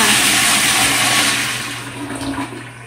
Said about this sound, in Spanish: para jalar el agua tienes que jalar esta palanquita de aquí y el agua se va